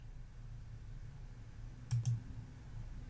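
A mouse clicks on the dollar-sign accounting format button in Excel 365: two quick, sharp clicks close together, fairly quiet over a low steady background hum.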